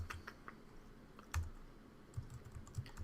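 A few keys are pressed on a computer keyboard to enter a shortcut, making quiet, close clicks with one sharper press partway through and soft taps after it.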